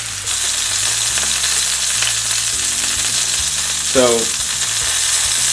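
Teriyaki chicken searing in a pan for steamed buns, a loud, dense, continuous sizzle close up, with one brief spoken word near the end.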